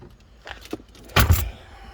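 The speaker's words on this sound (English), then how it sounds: "See, automatic rear opening hatch." A mechanical whir and thunk of a 2012 Jeep Grand Cherokee SRT-8's powered rear hatch releasing and lifting, brief and fairly close, with quiet background before it.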